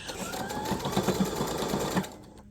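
A sewing machine stitches a drawstring bag made from a t-shirt, running in one fast, continuous burst of rapid needle strokes before stopping abruptly.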